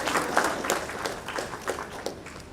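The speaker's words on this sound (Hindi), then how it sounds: "जोरदार तालियां आपकी तरफ से होनी चाहिए।" Applause from an audience at a Jharkhand sports policy 2022 launch and athlete honour ceremony, a steady dense patter of clapping lasting a couple of seconds with no talk over it.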